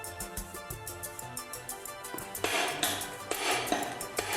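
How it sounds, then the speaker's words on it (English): A hide mallet strikes motorcycle engine crankcases to knock them apart, giving dull knocks in a steady rhythm against a metallic ringing background, then a few heavier, louder thumps near the end. "Hide mallet."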